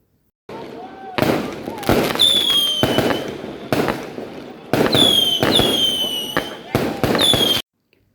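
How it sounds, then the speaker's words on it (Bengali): Firecrackers burst repeatedly at an evening iftar gathering, loud bangs and crackling volleys coming in clustered bursts with rising whistling rockets, background voices of people gathered nearby, ending in sudden quiet. "সবাই মিলে এখানে বাজি ফোটাচ্ছিল। তো এত সাউন্ড হচ্ছিল"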